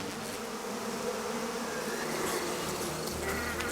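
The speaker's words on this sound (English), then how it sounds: "Freeing yourself from an angry swarm of killer bees is difficult." An angry swarm of killer bees buzzes steadily and densely throughout, a loud, close, continuous drone of many wings with no voices.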